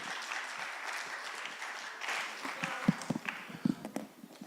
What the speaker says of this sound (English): Clap for Imran as he approaches the stage.